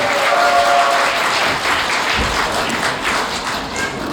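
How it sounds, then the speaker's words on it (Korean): Wedding guests in a convention hall give the groom's father another round of applause, the clapping full and steady with a faint voice briefly audible near the start. "우리 아버님께 박수 한 번 더 부탁드리겠습니다"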